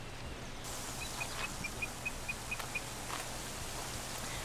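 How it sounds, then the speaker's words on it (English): Birds chirp in the ambient soundscape of the video game Botany Manor, a faint, evenly spaced run of about nine short high chirps over a steady hiss of background noise. "I just love hearing birds chirp."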